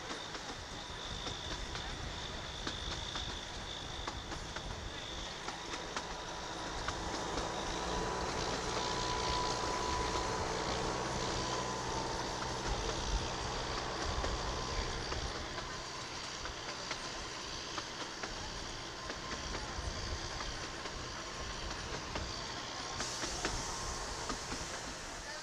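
A small toy train rolls steadily through a forest and mango grove, a continuous low rumble and rattle of wheels that stays even throughout, with a faint hiss on top.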